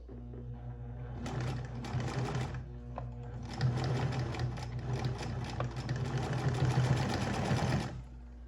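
Sewing machine stitching close to the edge of a double-sided placemat cover with elastic, humming in two sustained runs with a brief pause between, loud and near.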